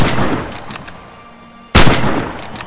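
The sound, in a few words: MG34 machine gun firing in video game Red Orchestra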